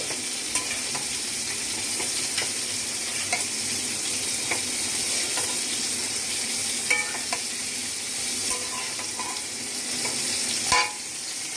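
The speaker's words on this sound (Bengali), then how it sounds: "আমি এটা এবার একটু নেড়ে চেড়ে নিচ্ছি।" Malabar spinach fries in a pan with a soft, constant sizzle while a spatula stirs it, giving scattered scrapes and light knocks and a sharper clack near the end, with no one speaking.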